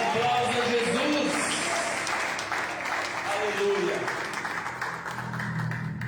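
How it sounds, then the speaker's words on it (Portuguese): A church congregation applauds during a sermon, steady broadband clapping filling the room at moderate volume, with voices and worship sounds mixed in underneath throughout. "E um aplauso a Jesus."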